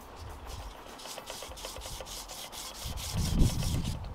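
Sanding dried wood glue off a wooden clock hand by hand gives soft, fairly faint rhythmic rubbing strokes, close by with no talk, growing slightly louder toward the end.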